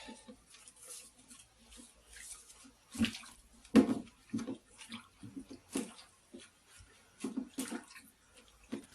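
Water splashing and trickling over newspaper scraps being wetted for worm bedding in a DIY worm farm, with irregular soft splashes and a couple of louder bursts, close and fairly quiet, no talking.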